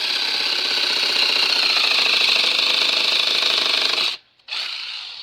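A power saw buzzes steadily through a tree branch for several seconds, close and loud, then stops briefly and starts up again.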